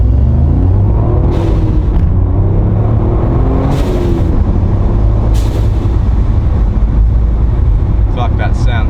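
A Toyota GR Yaris accelerates downhill, its engine a loud, steady low rumble with wind buffeting throughout and a few brief higher whooshes as it pulls hard.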